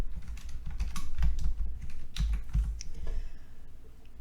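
Typing on a computer keyboard, dense irregular key clicks and taps in a steady flurry, close and fairly loud, with no speech.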